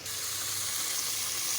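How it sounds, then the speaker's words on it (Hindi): Chicken mince with yogurt frying hard over a full flame, a dense continuous sizzle that stays loud and even throughout, with no talking. "अब ये फुल है इसकी आग और इसको मैं भून रही हूँ"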